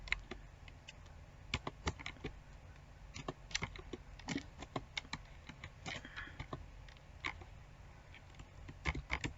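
Computer keyboard typing plays as quiet, irregular clusters of light key clicks at close range, with short pauses between bursts of keystrokes.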